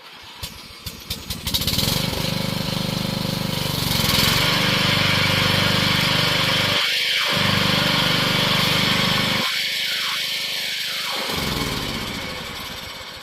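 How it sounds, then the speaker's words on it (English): Craftsman LT4000 riding lawn mower with a 38-inch manual deck, engine cranking in a few quick pulses, then catching and running at a loud, steady drone close by. "we should be able to start it up and go mow now"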